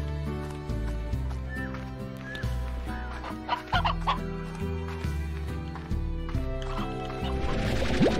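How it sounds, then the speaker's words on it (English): Chicken clucking in the video game Slime Rancher, a few short clucks over a loud, steady game music loop, with a rustling burst near the end. "Bob is our chicken friend."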